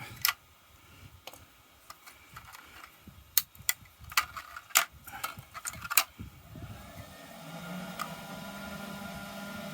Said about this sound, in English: excuse the noise, that's the printer just starting printing something else